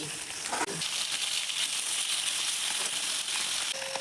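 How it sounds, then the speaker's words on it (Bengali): Kaikka fish fry in hot oil with a constant close crackling sizzle, marked by a sharp knock near the start and a faint tone toward the end, without speech. "তেল গরম হয়ে গেছে মাছটা ছেড়ে দিচ্ছি"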